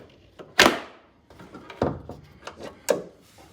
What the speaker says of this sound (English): Next, open your hood.